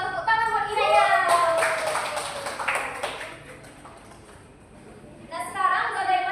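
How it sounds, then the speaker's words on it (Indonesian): Third-grade children in a classroom clap together in a short, scattered burst, with a voice speaking before and after it. "tepuk tangan buat Inaya."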